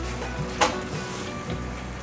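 Mushrooms (five kinds) dropped into a thick, pasty mixture in a pot, giving a steady close sizzle with a couple of soft stirring scrapes and no talking.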